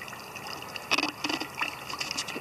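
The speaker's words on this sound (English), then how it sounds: "This is a little fountain with very dirty water." Water trickles in a small outdoor fountain at a California mission, a light, irregular burbling with brief splashy bursts over faint background air, and nobody speaks.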